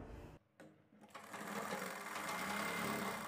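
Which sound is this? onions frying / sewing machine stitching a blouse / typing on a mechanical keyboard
sewing machine stitching a blouse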